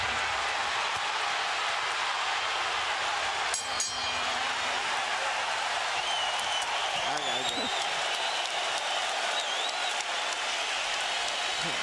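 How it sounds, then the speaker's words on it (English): Large boxing arena crowd applauding en masse for Arturo Gatti and Micky Ward's third fight, a dense, steady roar of clapping and cheering throughout, with a brief burst of louder noise near the start and faint voices mixed in. "As the crowd stands en masse to applaud"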